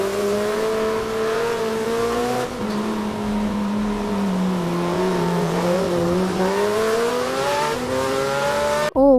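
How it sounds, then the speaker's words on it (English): Deep, powerful sports car engine generated by an AI video model, revving continuously and rising as the car speeds up, loud and close with no talk, ending abruptly. "It sounds so realistic, like an actual sports car reviving and speeding. The audio has that deep, powerful engine roar."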